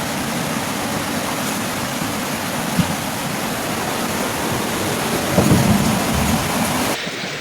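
Heavy rain pours during flooding in Bandar Lampung, a dense, constant roar of downpour and rushing water with a brief louder swell near the end.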